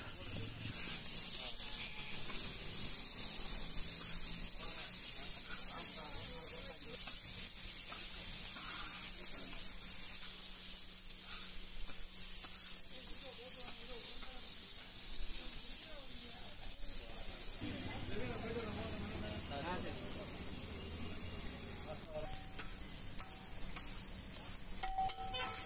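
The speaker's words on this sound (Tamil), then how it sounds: "ஓகே, நல்லா ஆயில் ஊற்றி சூப்பராக ஃப்ரை பண்ணிடலாம்." Onions fry in oil for a beans omelette, a continuous hissing sizzle with occasional stirring scrapes, close and steady, with some talk at times.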